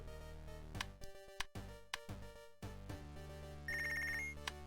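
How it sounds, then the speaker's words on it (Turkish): An electronic phone rings in the boxing-management game Punch Club, a sequence of sharp synthesized tones and clicks ending in a sustained high trilling ring, clean and alone without talk. "Telefon çalıyor."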